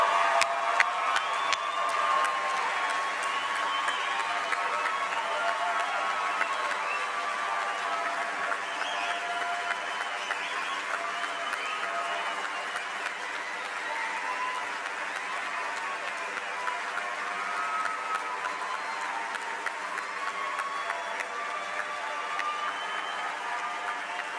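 A graduation ceremony audience at a 2014 university commencement claps and cheers, a steady wash of applause held at a moderate, distant level for the whole stretch, with scattered whoops and no talking.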